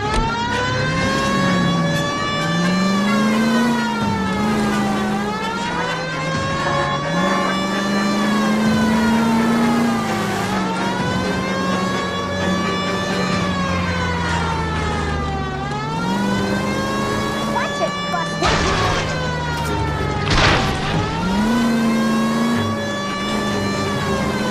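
Car driven in the LA Noire video game, its engine revving and shifting under a loud, continuous wailing police siren that rises and falls through the whole stretch.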